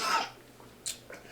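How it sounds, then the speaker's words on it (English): A single short cough, faint and a little distant, rises once through a quiet, hissy room, followed by a softer breathy sound; a brief noisy burst comes just before it. "there is the first cough."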